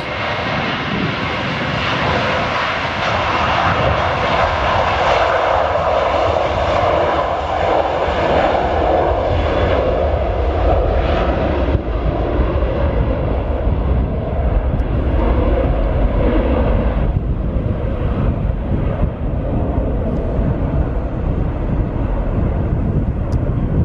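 A loud airplane engine roars continuously, a powerful sustained jet rumble that holds strong throughout as the aircraft takes off.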